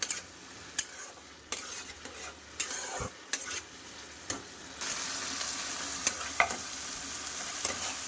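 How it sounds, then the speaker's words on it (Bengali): Spice masala with roasted spices and a little coconut is stir-fried in a pan for a banana-flower curry, with a steady sizzle and repeated scrapes and knocks of the stirring utensil close up. "চলো একটু কষিয়ে নিয়ে আসছি"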